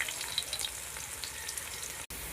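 Onions fry in oil in a pan while a village-style fish curry is cooked, a steady, close hissing sizzle with faint crackles that cuts out briefly near the end, with no one speaking.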